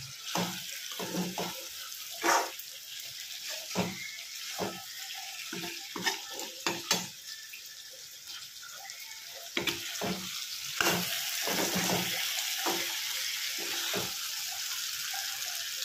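Eggplant sizzles and crackles in a pan with intermittent scraping and stirring clicks, growing into a steady frying hiss toward the end.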